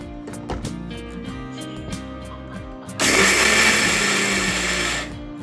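Soaked navara rice being crushed in a mixer grinder: a loud, steady whirring grind starts abruptly partway through and runs for about two seconds before cutting off, preceded by quieter kitchen clatter.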